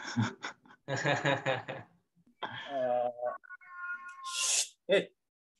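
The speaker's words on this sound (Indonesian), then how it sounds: "Suara kucing, maaf." A cat meows once during an online tournament call, a short high cry after stretches of speech, followed by a brief noise.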